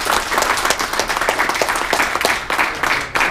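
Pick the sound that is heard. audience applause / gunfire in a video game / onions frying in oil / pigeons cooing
audience applause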